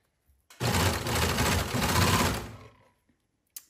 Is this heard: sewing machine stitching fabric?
yes